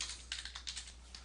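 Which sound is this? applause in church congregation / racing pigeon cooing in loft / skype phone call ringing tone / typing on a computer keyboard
typing on a computer keyboard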